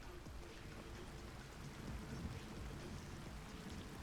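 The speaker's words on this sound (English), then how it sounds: "Oh, awesome. It's raining." Steady rain falls on a campsite in a soft, even patter with a faint low rumble beneath, quiet and continuous with no voices.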